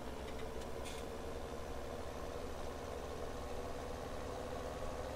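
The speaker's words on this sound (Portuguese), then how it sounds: "Vamos levar esse trator pra sede." A tractor engine in the video game Farming Simulator 17 idles and drives at a steady low, even rumble, continuous and fairly quiet, with no voices over it.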